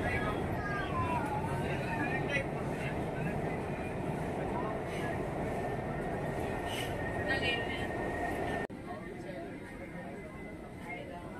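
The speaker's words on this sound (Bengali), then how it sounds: "তো মেট্রো এখন মহাকরণে চলে এসেছে।" Kolkata underwater metro train pulling into Mahakaran station on the Howrah to Esplanade line, a steady loud rumble of wheels and motors heard from inside the carriage that drops off abruptly near the end as the train halts.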